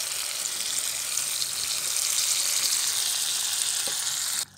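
Water pours into a pan of fried white tofu while cooking tofu and long bean curry, a steady broad sizzling rush that runs unbroken at close range before stopping abruptly at the end.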